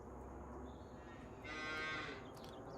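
Calves in a cow barn in Farming Simulator 25 let out a single drawn-out moo, fairly faint and heard over a steady low barn hum with no talk.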